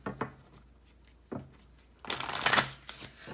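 A deck of Moonology oracle cards is shuffled up close, a couple of soft taps and slides followed by a brief rapid riffling burst.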